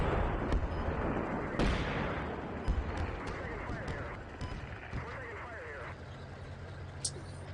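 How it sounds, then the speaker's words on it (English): Gunfire and shooting during a tank battle in Steel Beasts Pro, with sharp cracks and thuds scattered over a dense rumbling battle bed, some shots close by and others distant, under continuous radio-style talk. "Some kind of shooting right by me"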